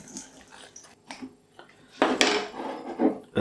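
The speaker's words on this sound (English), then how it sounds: "Give it a good stir." Bread pudding mixture of soaked bread, mixed fruit and mixed spice is stirred in a bowl, starting with soft, sparse scrapes and then building into louder, continuous wet scraping and thudding strokes.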